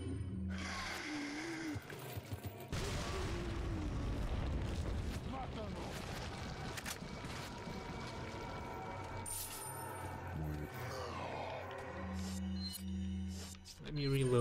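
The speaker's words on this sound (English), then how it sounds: "I think I'll just throw a grenade in there." Grenade explosion in the video game Resident Evil 4, a loud boom and rumbling blast mixed with game sound effects, enemy groans and a commentator's voice talking over it.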